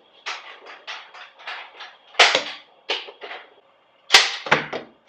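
Sharp gunshots ring out during shooting-on-the-move practice, arriving in quick irregular bursts of loud cracks with brief pauses between groups, no voices heard.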